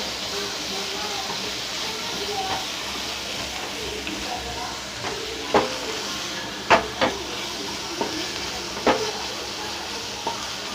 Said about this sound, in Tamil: பன்னீரை போட்டு பன்னீரை நல்லா பிரட்டி விட்டுக்கலாம்.